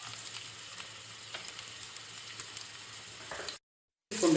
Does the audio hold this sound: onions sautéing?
yes